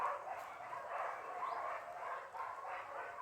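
A dog yips and whimpers in short, excited bursts at a moderate distance, repeating every second or so, in an enclosure at an animal shelter.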